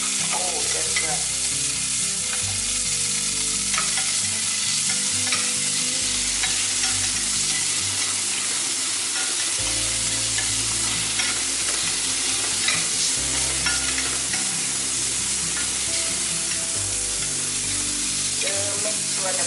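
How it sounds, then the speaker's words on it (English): Pork pieces sizzle and splatter in a hot pan with browned garlic, a loud continuous frying hiss with crackling pops and occasional stirring scrapes throughout. "We got the garlic nice and brown. Yes. So, my Put the pork in there. Splatter, splatter."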